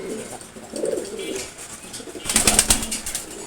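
Pigeons coo in their coop: a few low, soft calls near the start, then a louder, busier stretch of cooing and fluttering toward the end, with no clear speech.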